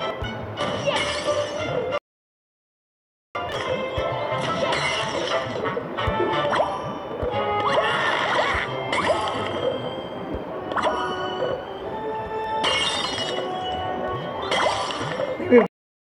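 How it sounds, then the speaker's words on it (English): Glass bricks shattering in the mobile game Angry Birds Dream Blast, a loud, dense run of bright crashes, clinks and whooshing game effects over a steady backdrop, with one brief silent gap near the start. "So level 9 now, I'm gonna break glass bricks."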